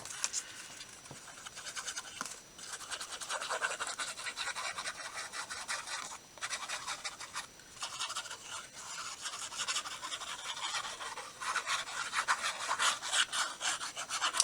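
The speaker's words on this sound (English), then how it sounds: "I'm going to sew around these" Needle and thread worked by hand around manilla folder paper ephemera, a continuous close scratchy rubbing and rasping with small irregular pauses, no talking.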